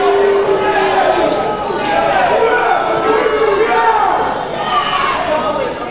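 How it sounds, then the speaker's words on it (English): A wrestling crowd at the World Gym Arena cheers for Gigi Rey, a loud, steady wash of many voices and roars that holds for several seconds with no clear breaks. "As we can hear everybody here at the World Gym Arena cheering for Gigi Rey."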